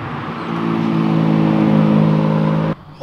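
A supercar arriving for a rally drive: a steady engine drone builds and holds at a moderate distance, then cuts off abruptly near the end.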